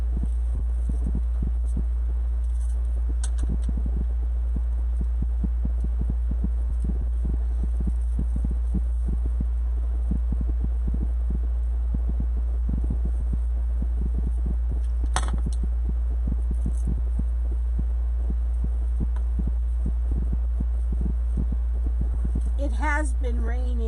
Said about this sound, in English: You probably hear my air conditioner right now, Monica.